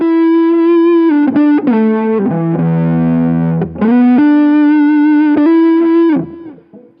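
An electric guitar through a tone pedal plays sustained, sliding notes with a warm, slightly rolled-off overdriven tone, loud and close, ringing out before fading.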